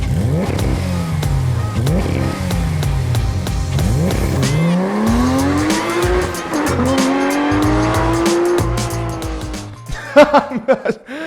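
A Porsche 911 GTS sports car revs hard, its engine pitch climbing and falling through gear changes while tires squeal loudly and near throughout, ending in a few sharp bursts.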